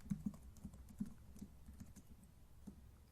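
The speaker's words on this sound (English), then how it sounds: "We're typing in password." Soft, quick key clicks on a computer keyboard as a password is entered in an HTML forms tutorial, faint and irregular with brief pauses.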